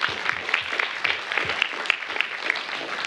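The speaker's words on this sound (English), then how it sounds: "let us give our guests a round of applause" An audience claps for panel guests at an academic conference session, with steady, dense applause and sharp individual claps heard from nearby across the whole stretch.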